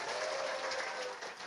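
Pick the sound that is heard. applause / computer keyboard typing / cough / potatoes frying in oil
applause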